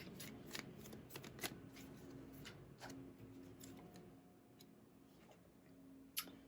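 Tarot cards are shuffled by hand and then drawn, giving a close, quiet run of soft riffling flicks and taps that comes in bursts with short pauses between them, with no voice over the sound.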